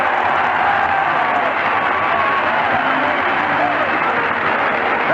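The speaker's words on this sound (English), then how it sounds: "listen to this crowd" A packed arena crowd roars and cheers at the final buzzer of a 1973 NBA semi-finals game between the Knicks and Bullets, a loud continuous wall of shouting and applause with no pause.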